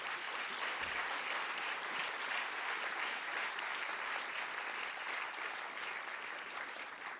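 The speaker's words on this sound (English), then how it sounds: "a big round of applause," Sustained round of audience applause at a folk music festival, many hands clapping in a dense steady wash for the full stretch with no talk over it.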